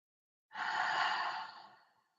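One slow, soft belly-breathing exhale, close and alone in a quiet room, that swells quickly and then tapers gradually to silence.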